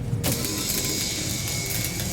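A safety lock disengaging in the video game 007 First Light: a sharp mechanical clunk, then a steady grinding, creaking whir of gears that runs for about two seconds and ends with another clunk.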